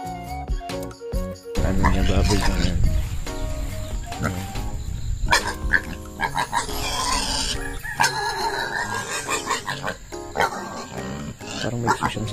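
Pigs in a rural pig pen grunt and squeal in a busy, overlapping chorus, close and loud, while people talk over the animal noise throughout.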